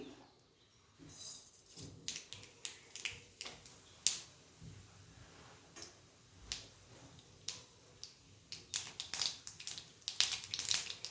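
Mustard seeds sizzle and crackle in hot oil as a base for a fried eggplant, cauliflower and potato vegetable dish, giving irregular sharp pops that grow denser toward the end over a soft hiss, with no talking.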